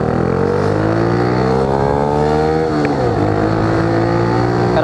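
A loud motorcycle engine revs up steadily, its pitch climbing, then drops briefly and climbs again, droning close by throughout.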